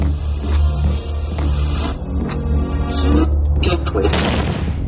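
A heavy explosion in the horror video game Horror Hospital booms, with deep rumble and bursts of gunfire-like blasts throughout, ending in a bright crackling burst.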